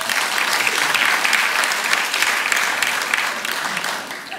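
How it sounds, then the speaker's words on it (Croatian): Sustained audience applause at a stand-up comedy show, a full room clapping loudly and continuously for several seconds before easing slightly toward the end. "Bi se složili s menom, dajte aplauz ako..."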